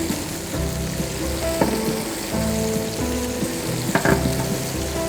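Broccoli and beef strips sizzle loudly in a hot pan, with a continuous crackling fry broken by a few sharp clacks of stirring.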